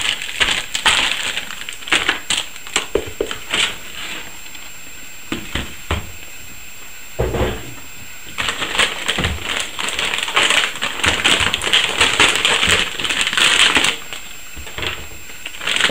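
Crinkling and rustling of an antistatic plastic bag as an Asus P9X79 motherboard is handled, with bursts of crackly clicks that pause briefly midway and then continue, close and fairly loud, with no talking.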